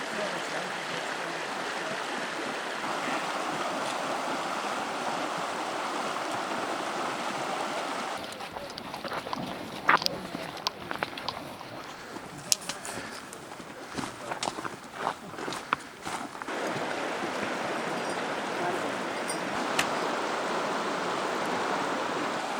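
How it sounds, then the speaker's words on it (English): Low Savage River running shallow over a rocky crossing, a steady broadband wash of flowing water with scattered clicks and brief knocks in the middle section, as if someone is stepping through. "This is the Savage River, and it is quite low."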